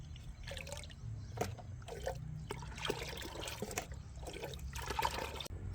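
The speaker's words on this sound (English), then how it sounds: "Pour this into a bucket with 8 liters of water and mix properly." Liquid fertilizer pours and splashes into a bucket of 8 liters of water, a continuous gurgling trickle with a low background rumble, nearby and moderately quiet.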